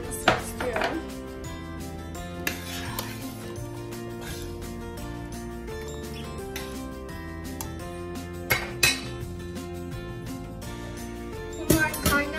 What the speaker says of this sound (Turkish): Bunlar kaynarken diğer taraftan kuru kayısını doğrayacağım